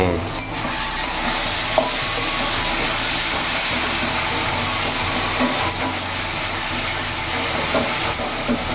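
Potatoes fry in a pan and are stirred, giving a steady, dense sizzle with occasional scraping clinks throughout.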